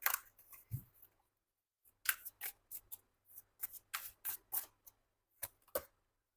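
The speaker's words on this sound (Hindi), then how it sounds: "थोड़े कार्ड्स को मैं शफल कर लेती हूँ।" Tarot cards are shuffled by hand in a quiet room, giving crisp snapping and riffling clicks in uneven bursts, close and clear with no talking.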